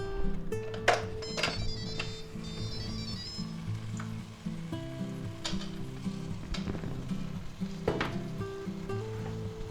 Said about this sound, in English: Man, they're sizzling.